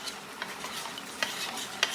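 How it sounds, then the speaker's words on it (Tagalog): Creamy chicken chop suey thickened with cornstarch is stirred in a pan under a soft continuous sizzle, with a few sharp utensil clinks against the metal, close and moderately quiet, and no talking. "Haluin natin."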